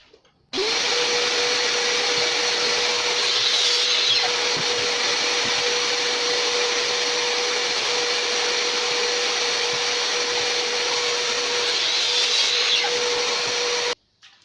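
A power tool cuts the ends of a wooden piece for a kitchen utensil rack, starting abruptly into a loud, steady whining drone that runs unbroken for about thirteen seconds before cutting off.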